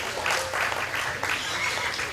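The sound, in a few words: applause for exhibitors at a county fair hog show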